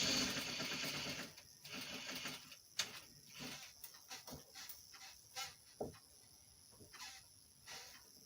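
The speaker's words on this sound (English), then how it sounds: "I'm making sure that the seams are matching as I'm sewing." A sewing machine stitches the seams of boxer shorts in a quiet room: a steady run at first, then short, stop-start bursts of stitching with gaps between.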